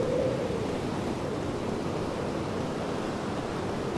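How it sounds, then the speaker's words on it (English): Ocean waves in the video game Lost Odyssey wash in a steady, broad surf roar that holds evenly throughout, with no voices. "Look at the waves rocking."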